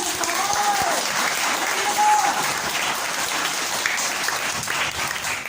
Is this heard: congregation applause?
yes